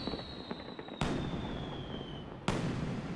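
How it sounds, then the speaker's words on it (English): Fireworks going off in the video game Final Fantasy XII, two sudden loud bursts about a second and a half apart, each followed by a crackling, sustained roar over a faint whistling tone. "Fireworks."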